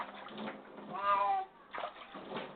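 A pet cat, Sakura, nicknamed Miming, lets out one clear, drawn-out meow midway while being given a bath, with quieter splashing and handling noise before and after it.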